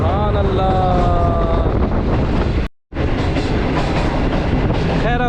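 Awan Express passenger train rolling through a tunnel: steady loud rumble and clatter of wheels on rails, with screeching tones and a brief near-silent drop partway through before the roar resumes.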